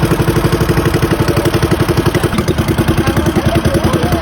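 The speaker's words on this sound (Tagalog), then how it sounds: "chinek pa rin muna namin tong motor o yung makina ba yung tawag dyan" A small fishing boat's motor engine runs steadily at idle, a rhythmic low chugging clatter that stays even and close throughout.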